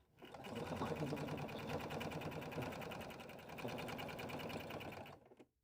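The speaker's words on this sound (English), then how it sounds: "I'm going to step to my machine and sew down the sides, across the bottom, and back up the other side" A sewing machine stitches the sides and bottom of a tote bag lining in one steady run of rapid, even needle clatter, fairly quiet and close, starting and stopping cleanly.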